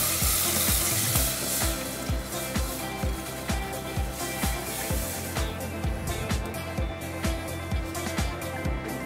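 Water poured into a pan of frying onion for risotto, a continuous wet hiss and bubbling close by, with evenly spaced soft knocks throughout.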